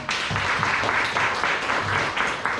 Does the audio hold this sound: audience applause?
yes